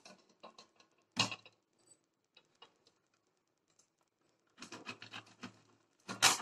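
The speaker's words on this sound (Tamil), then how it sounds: "இந்த டவ் சோப்பை வந்து இப்போ நம்ம துருவி எடுத்துக்கலாம்." A bar of Dove soap scraped across a grater, heard as short, rough rasping bursts separated by quiet pauses, with a longer run of scratching strokes near the end.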